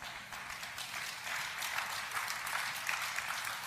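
A church audience at a sermon breaks into sustained applause, a dense wash of many hands clapping that swells slightly midway and carries on steadily, fairly quiet and distant.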